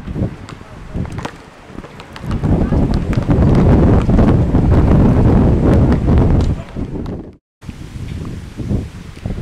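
Wind gusts outdoors in Bilbao beside trees near the water, loud rumbling buffeting across the microphone with rustling leaves, rising through the middle and easing off, then a short dropout before softer wind resumes.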